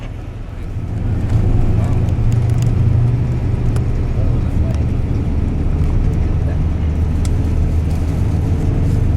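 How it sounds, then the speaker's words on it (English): A car drives south out of downtown Lima, Peru, a steady low road and engine rumble with traffic noise that holds loud and constant throughout. "We'll be driving south."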